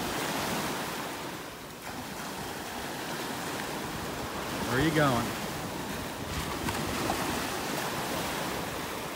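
Ocean waves wash and break along a beach in North Naples, Florida, as a continuous loud surf roar with wind noise. A brief bird-like chirp is heard, and a person speaks briefly over it.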